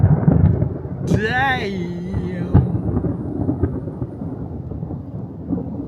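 Thunder from a lightning storm at sunset in Wilmington, Delaware, rolls loudly and low around a car, with a sharper crack partway through and a man briefly exclaiming.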